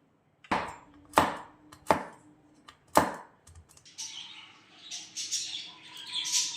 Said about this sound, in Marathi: फक्त आपण काजू आणि बदाम याला कट करून घेऊया